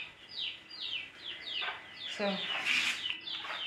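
Chickens cluck and chirp in a garden, a run of short, close, high calls repeating, with a brief voice speaking partway through.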